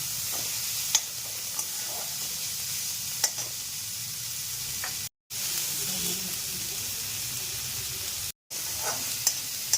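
Prawn heads fry in a pan over full flame with salt and turmeric, giving a steady close sizzle with occasional stirring clicks, broken by two brief silent gaps.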